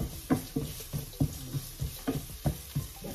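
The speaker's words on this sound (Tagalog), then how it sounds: "ipapry lang natin kaunti yung garlic at saka yung onion para yung fragrant lalabas siya" Garlic and onion fry in a pan while being stirred, giving a steady sizzle broken by rhythmic scraping strokes of a utensil against the pan, close up with no talking.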